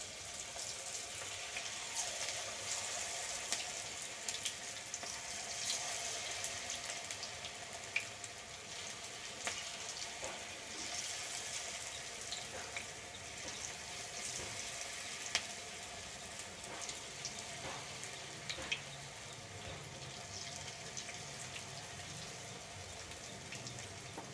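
Tapioca pakoda deep frying in hot oil, a soft continuous bubbling hiss with scattered pops and crackles, fairly quiet and heard on its own for the whole stretch.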